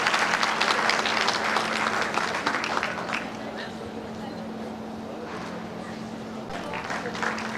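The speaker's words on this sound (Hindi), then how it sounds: "हमारे बीच एक बार जोरदार तालियों के साथ स्वागत।" A crowd applauds to welcome guests at a public event in India, with loud, dense clapping at first that thins to a lighter patter, while a faint steady hum and some voices sit underneath.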